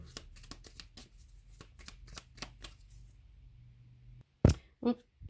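Cards are shuffled and laid out for a tarot-style reading, giving a quick run of soft, close riffling flicks and taps, then a pause and two short louder bursts near the end.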